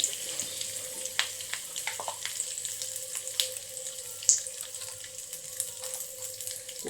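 Curry leaves fry in hot oil in a pan, giving a steady close sizzle with occasional small crackles and pops over a constant background hum.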